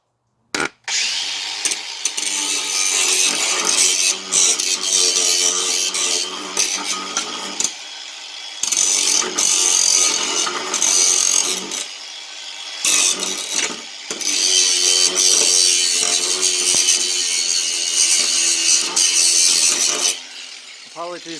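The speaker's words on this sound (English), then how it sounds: "So now, take the grinder, go down here and clean it up real quick." Angle grinder cleaning up metal around an engine mount on a Datsun 240Z/260Z/280Z project: long, loud, harsh grinding bursts broken by brief pauses, close up and dominating the scene.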